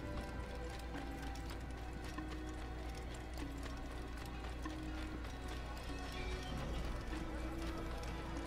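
Horse hooves clip-clop at a steady, continuous trot in the Assassin's Creed video game, a quiet rhythmic clatter over a low ambient bed with no voices.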